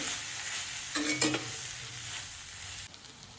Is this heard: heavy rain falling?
no